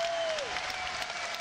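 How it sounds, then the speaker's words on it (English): A crowd at a wrestling show applauds and cheers, a dense, steady wash of clapping close up and filling the room, with a brief whistle-like tone sliding down near the start. "the crowd audio is fantastic on this show"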